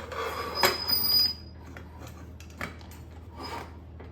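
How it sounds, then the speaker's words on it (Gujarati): A pressure cooker lid is fitted and locked shut on a pot of brinjal and potato curry, with a metallic scrape and clatter up front, then softer clicks and knocks over a low kitchen hum. "હવે આપણે કુકરનું ઢક્કન બંધ કરી લઈશું."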